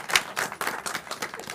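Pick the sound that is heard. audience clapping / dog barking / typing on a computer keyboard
audience clapping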